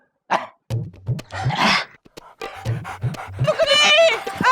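A person imitates a panting dog, producing rapid rhythmic huffs and breathy pants in bursts, loud and close, with some voiced whimpering tones mixed in during a comedic yoga-style routine.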